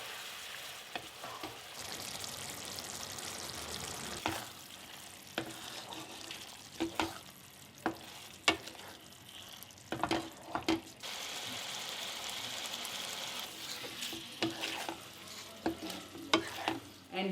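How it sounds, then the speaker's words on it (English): Chopped pineapple cubes frying with pork in a pan, a low steady sizzle broken by repeated sharp scrapes and clacks of a spatula stirring, with faint running water in the background. "Stir and cook it until your pineapple is soft."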